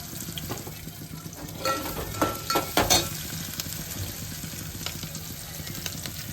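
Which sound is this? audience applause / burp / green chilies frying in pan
green chilies frying in pan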